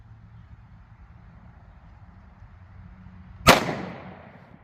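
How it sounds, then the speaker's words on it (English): A single loud .40 S&W shot fired outdoors from a Smith & Wesson M&P pistol with Underwood 155-grain XTP ammunition, a sharp crack trailing into a brief decay after a quiet lead-in. "I pulled that shot high and to the right."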